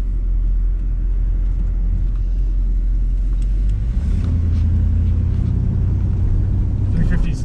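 A 1955 Pontiac wagon with a 350 engine cruises down the road with a steady, loud low rumble of engine and road noise, deepening slightly partway through, while someone talks over it.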